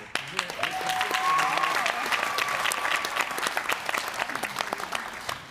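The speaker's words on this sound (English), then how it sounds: "So I'd like another round of applause for" Audience applause after a play, dense clapping that swells and then thins out, with some voices mixed in.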